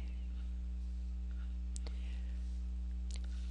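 A computer mouse clicks while text is selected on a computer: two or three sharp, close clicks spaced a second or more apart over a steady electrical hum, with no talking.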